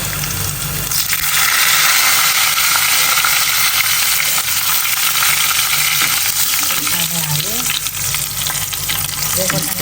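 Garlic frying in a pan for dal, giving a loud, dense sizzle that swells within the first second and stays strong to the end, with a few light stirring sounds.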